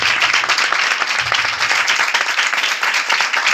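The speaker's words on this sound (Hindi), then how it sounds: "तालियां बजा सकते हो।" Congregation clapping during an Urdu sermon, a loud, dense burst of many hands applauding together, continuous and close throughout.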